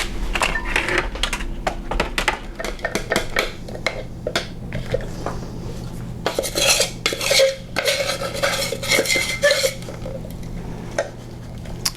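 Ground freeze-dried autumn olive seeds and powder are shaken through a sifter, making a dense run of sharp rattling and scraping taps that come in quick bursts, loud and close, with no voices.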